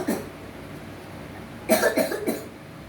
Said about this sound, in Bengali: এরকম কাশি, কনস্ট্যান্ট কাশি চেম্বারে ঢোকার পর থেকে লক্ষ্য করছি বাচ্চাটা